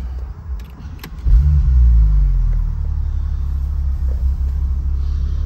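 A 2015 Porsche 911 Turbo S Cabriolet is started from inside the cabin: a few clicks, then the engine catches with a loud, brief flare of revs before settling into a steady, deep, rumbling idle.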